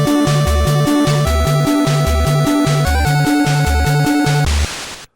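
A computer loading tone sequence: a looping, chiptune-like pattern of stepped, repeating pitches with buzzy, static-laden overtones, loud and steady for about five seconds before cutting off abruptly.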